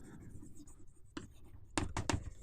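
Pen writing equations by hand during an engineering physics lecture, soft close scratching strokes ending in a few quick firmer marks.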